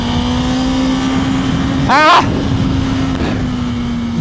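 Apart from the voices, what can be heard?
BMW S1000RR motorcycle riding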